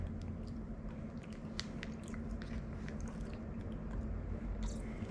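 Close, quiet crunching bites of a crunchy Magnum ice cream cup followed by chewing, soft crisp crackles scattered over a low steady background hum, no talking.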